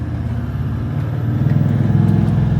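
A Toyota LandCruiser 79 engine labours up an off-road hill in low-range third gear with the rear locker engaged, a loud close throbbing rumble that builds slightly in strength, with no talking.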